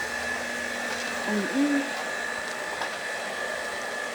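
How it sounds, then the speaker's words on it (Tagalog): A vacuum cleaner runs downstairs in a home, giving a steady close whirring roar with a thin constant whine. It holds level for the whole stretch, with no talk. "Tapos na nga pala ako mag-vacuum."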